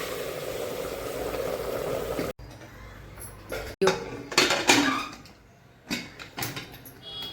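Hot water is poured into a pan of chicken sukka in a steady rushing stream, followed by clinks and knocks of the pot and utensils, with a little talk.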